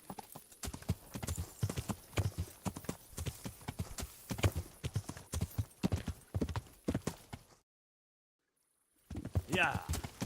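Horse hooves clip-clop in a steady rhythm through the Kingdom Come: Deliverance game, running under overlapping talk before a brief silence and a short return.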